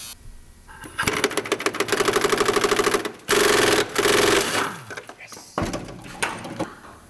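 A cutting tool bites into the bed mounting bar of a Toyota truck in loud, harsh bursts that stop and start, with a rasping grind between the pauses.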